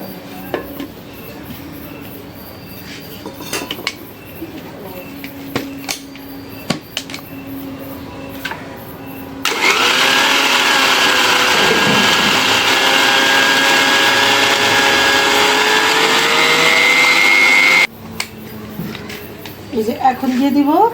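A kitchen blender whirs loudly at steady speed for about eight seconds as soybean oil is added in portions for a luchi kebab mixture, then cuts off abruptly. Someone speaks before and after it runs, with light clatter of utensils.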